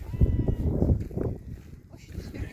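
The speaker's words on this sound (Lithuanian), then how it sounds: "o ten avis. Pilna avių." Sheep in a flock grazing in the Romanian mountains bleat close by, several overlapping calls mixed with people talking.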